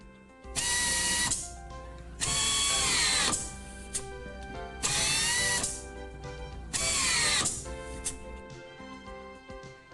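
An AIMCO US-LT fastening tool runs on test after repair, firing in four distinct whirring bursts of about a second and a half each, separated by short pauses, loud and close with no talking.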